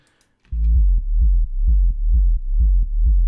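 Deep sub-oscillator sine wave from a synth in Ableton, playing a steady pulsing low bass pattern of repeated notes with a soft attack on each, loud and alone after a brief quiet start.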